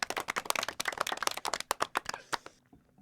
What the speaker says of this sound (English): Almost sounds like somebody laughs at the end of our clap clip.